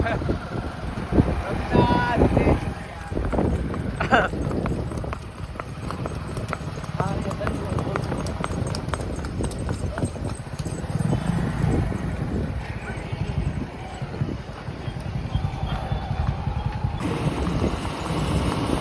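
A horse named Ratan ridden at night in Surat, its hooves clip-clopping in a steady rhythm, with wind noise and someone talking over the hoofbeats throughout.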